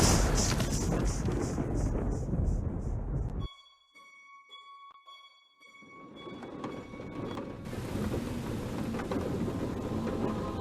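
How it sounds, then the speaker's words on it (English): Storm noise from the VR game A Fisherman's Tale: heavy rain and rumbling thunder, then a brief hushed stretch with faint tones before the loud downpour returns, no talk. "Outside, the storm raged"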